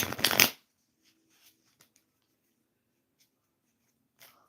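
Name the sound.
shuffling tarot cards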